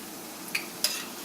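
Tortillas fry three at a time in a pan of oil for enchiladas rojas, a soft steady sizzle with two brief sharp clinks of utensils against the pan.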